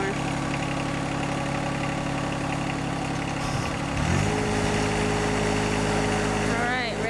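A John Deere 1025R compact tractor engine idles steadily throughout, with a slight shift in its tone partway through and people talking over it.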